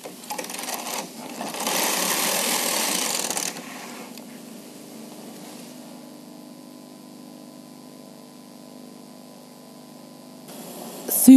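Bond Classic knitting machine knitting: a carriage swish and rattle across the needle bed, louder in one pass of about two seconds, then softer clicking and faint hum before a final clack.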